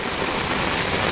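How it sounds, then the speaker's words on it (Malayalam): Heavy rain pours in Thalassery, a dense and loud continuous hiss of downpour with no breaks or voices. "അങ്ങോട്ടേക്ക് തലശ്ശേരിയിലെ മഴ"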